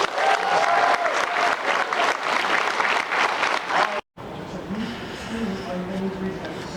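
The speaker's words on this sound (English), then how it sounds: "Give them a round of applause, folks." At a Boston Fan Expo 2019 panel, the audience claps and cheers loudly for about four seconds under a voice, then it cuts off abruptly and gives way to people talking.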